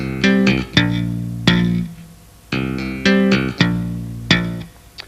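Bass guitar played with hammer-ons, taps and thumb slaps, a run of about eight sharp percussive attacks in an uneven rhythm, close and solo.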